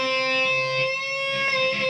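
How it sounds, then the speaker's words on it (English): A bright, ringing electric guitar tapped harmonic sustains, its pitch pushed slightly by a string bend, with no voices. "So I get a bend harmonic."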